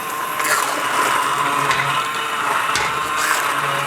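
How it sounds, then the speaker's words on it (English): A hand mixer whirs steadily as it blitzes softened vegetables in red wine and beef stock, a continuous close buzzing grind with slight shifts in pitch. "So I'm going to take the hand mixer and give them a little blitz."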